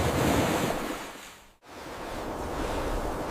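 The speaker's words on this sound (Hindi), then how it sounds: "सिर्फ लहरों की आवाज और अंधेरे में डर" Ocean waves break and wash over a shore at night, a steady loud broadband roar that dips briefly to near silence mid-way before surging back, with no voices.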